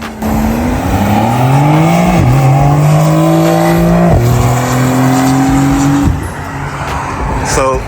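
A brand-new Porsche 911 on big 305 tires drives through a Florida hurricane, its engine note climbing through several gear shifts from inside the cabin with steady roaring wind and rain noise, and someone talks over it.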